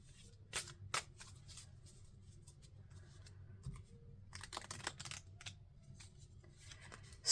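Oracle cards are shuffled and handled close by, quiet papery riffles and rubs with a few sharper snaps, scattered over several seconds and louder toward the end.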